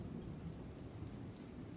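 Heavy rain pours outside in a steady, soft, even hiss, faint and unbroken, with a few slightly brighter splashes rising above it.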